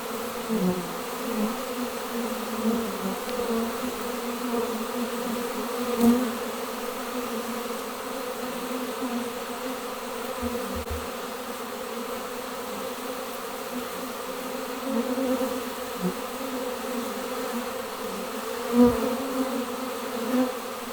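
A honey bee swarm flying through the air to settle on a tree branch, a steady, dense buzzing drone of many bees that holds throughout, with a few brief louder passes near the listener.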